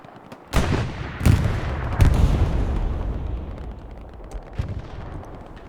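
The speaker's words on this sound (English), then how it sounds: "Artillery is dropping down" Artillery shells land in a competitive match on the Utah Beach map of a shooter game, with three heavy, close booms in quick succession, a long rumbling tail, and a fainter impact a few seconds later.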